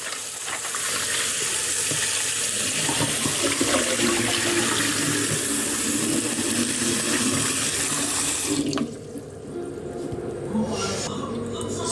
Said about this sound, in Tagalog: Sunod naman natin hugasan yung crocodile meat.